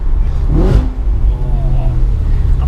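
An Audi RS4 engine blips and rises briefly during a downshift, then settles into a steady low rumble with a rough exhaust note, heard nearby in the open.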